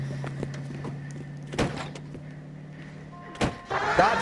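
Car doors thudding shut as characters climb into cars in L.A. Noire, two sharp slams over an idling engine hum, followed by a rising rustle and engine noise at the end.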